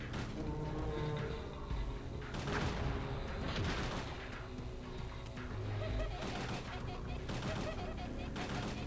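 Gunfire in the survival horror game Parasite Eve II, a dense, continuous barrage of loud shots and blasts with mechanical clatter, close and sustained without pause.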